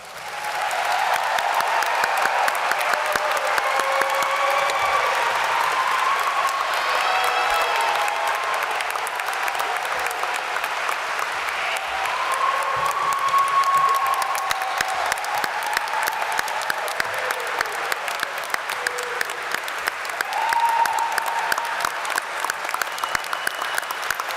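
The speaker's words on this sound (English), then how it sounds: "Please join me in a last round of applause for our graduates." Sustained applause from a commencement audience honoring graduates, a dense steady wash of clapping that holds for the whole stretch with little variation, broad and roomy like a large crowd, with a few faint voices mixed in.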